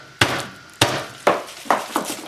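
A head of garlic smashed on its side, five sharp close thuds at uneven intervals, the first ones loudest and later ones slightly softer, with no talking.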